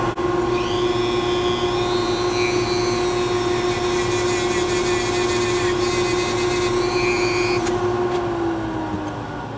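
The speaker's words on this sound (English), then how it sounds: "Switching to the little buffing wheel." A Dremel rotary tool fitted with a small buffing wheel polishes a brass fountain pen clip, giving a continuous high, steady motor whine that holds its pitch, then dips and slows briefly near the end, close up and alone.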